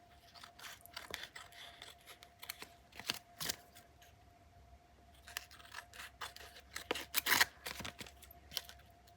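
Scissors snip through paper while playing card pockets are made: scattered crisp cuts and crunches in irregular bursts, close and quiet, with a faint steady hum behind them.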